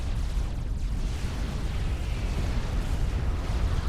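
Dense, continuous rumble of shell and bombing explosions in a Supreme Commander 2 battle, deep booms blending into one loud, roaring wash with no clear gaps.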